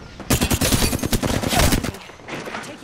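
Rapid automatic video game gunfire rattles loud and close in a dense two-second burst, then drops to a softer echoing tail.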